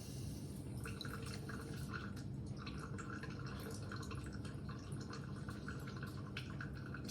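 Liquid drips steadily and faintly into a container after a test tube of Tollens' reagent is poured out in a chemistry lab, with light, irregular patters under quiet room noise.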